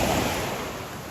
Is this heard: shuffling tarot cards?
no